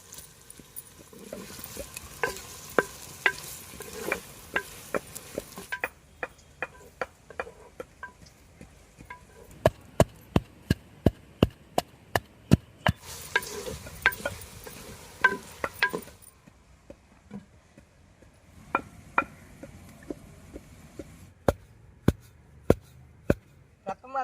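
Chopped onions and green chilies frying in oil in a pan, a soft low sizzle under frequent sharp spatula taps and clicks that come in quick bursts with short quieter gaps.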